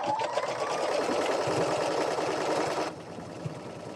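A home sewing machine stitches through quilting fabric pieces with a fast, steady mechanical whir that runs loud and close for about three seconds, then drops to a quieter hum with faint handling noises.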